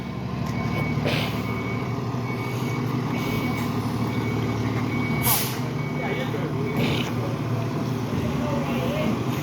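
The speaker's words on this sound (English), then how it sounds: "He's gonna try to back up and make that turn or go spinning around." Fire truck backing up with a steady series of high reversing beeps over a loud, rumbling diesel engine on a street, with occasional air-brake hisses and voices nearby.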